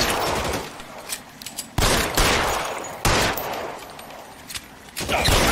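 Gunfire in a video game: several loud bursts of shots at roughly one-second intervals, standing out over steady background noise.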